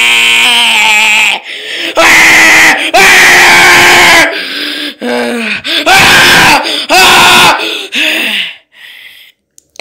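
A loud, close voice imitates Waluigi's drawn-out 'wah' in a series of harsh, strained screams, several bursts separated by short gaps, ending in near silence.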